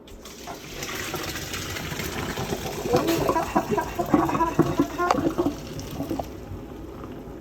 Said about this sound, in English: we are going to put our noodles inside the water strainer.